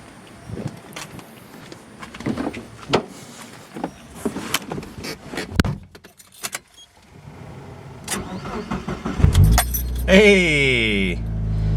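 Mitsubishi Evo starting on a power bank jump starter: keys jangle and clunks first, then the engine cranks and catches into a loud, steady idle near the end.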